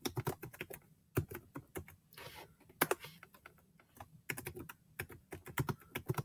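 Rapid bursts of typing on a computer keyboard while entering data into a spreadsheet, clicking in uneven clusters with brief pauses between runs of keystrokes, close and clear with no talking.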